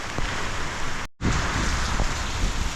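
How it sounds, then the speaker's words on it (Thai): Rain pouring down steadily during an outing at Pha Daeng, a dense continuous wash of drops close by, broken by a brief dropout before resuming just as loud. "ฝนมาแล้ว"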